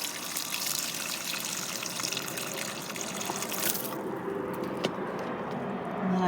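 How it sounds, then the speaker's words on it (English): Steady rushing water pours continuously from a garden watering, a broad hiss that shifts slightly in tone partway through, with no voices. "I've got to water the plants."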